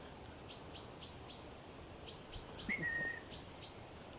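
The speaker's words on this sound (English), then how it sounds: "birds are screaming at him" Small birds chirp and whistle in a repeated series of short, high calls, fairly faint and outdoors in reeds, mobbing a falcon during a falconry flight in Carmarthenshire.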